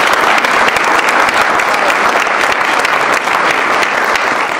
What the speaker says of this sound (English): Let's give JCSU and Senator Graham a round of applause.